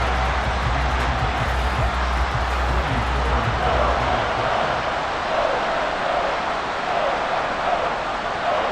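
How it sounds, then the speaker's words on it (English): Stadium crowd noise from an American football video game, a sustained broad roar of a large crowd that swells and holds steady without clear individual voices. "This crowd turning up the decibel level."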